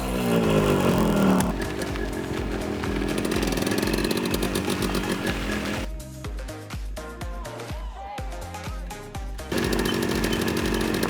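A modified Yamaha RX100 two-stroke motorcycle engine runs while being ridden, a loud buzzing rasp that rises and falls with throttle, dropping briefly before picking up again.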